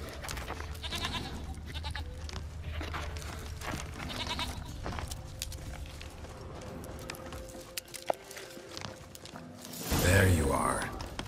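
Goat in The Witcher 3: The Wild Hunt Remastered on PS5 bleats briefly near the end, a loud close cry rising over steady game ambience with faint footsteps and rustling.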